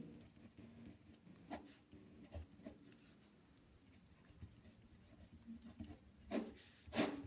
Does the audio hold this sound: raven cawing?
no